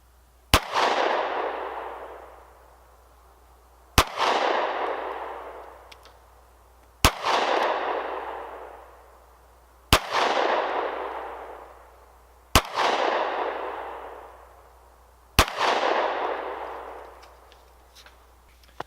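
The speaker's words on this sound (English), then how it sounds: "Let's do a couple shots at the little target up in the corner" Six sharp 9mm pistol shots from a Taurus G2c fired at a paper target at seven yards, spaced evenly about three seconds apart, each loud crack followed by a long ringing indoor-range decay, with no talking.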